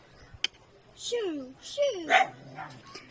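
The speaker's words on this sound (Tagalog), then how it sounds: "ang ingay ng aso." A dog barks and yips nearby in a few short, rising and falling bursts, some whiny, with a brief click near the start.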